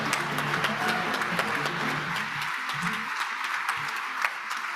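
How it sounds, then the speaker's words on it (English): Audience applause at the World Food Forum closing ceremony, a steady crowd clapping that carries through the whole stretch, with a brief burst of talk early on. "Please, a round of applause for us."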